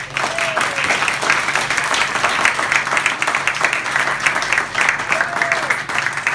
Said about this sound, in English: can we just have a massive round of applause?